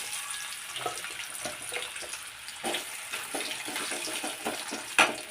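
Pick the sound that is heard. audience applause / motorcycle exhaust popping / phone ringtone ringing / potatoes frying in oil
potatoes frying in oil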